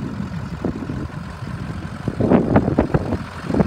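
A 2006 Ford E-450 20-passenger bus with a 6.0 liter diesel engine runs nearby, its low uneven rumble swelling into louder pulses toward the end.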